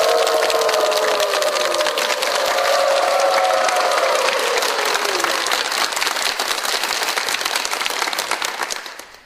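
A church congregation applauds to welcome a pastor, a dense sustained clapping that fills the hall for several seconds before tapering off, with some cheering tones early on and no speech.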